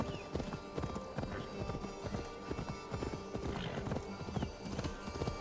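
A horse gallops in Assassin's Creed Valhalla, its hooves making a steady rapid clip-clop over continuous game music and ambience.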